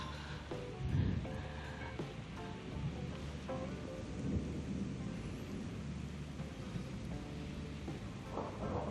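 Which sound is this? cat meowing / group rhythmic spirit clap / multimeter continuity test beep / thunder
thunder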